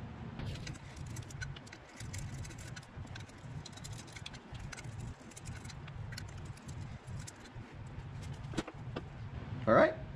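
The front wheel comes off a BMW R1250GSA motorcycle with scattered metallic clinks, taps and scrapes at close range, one louder clank near the end, while a low hum runs underneath.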